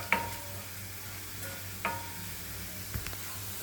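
Garlic tempering for gongura dal frying in a pan, sizzling softly with a few sharp crackles and stirring clinks spaced across a few quiet seconds.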